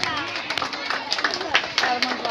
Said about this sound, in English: So I request all the students and guardians to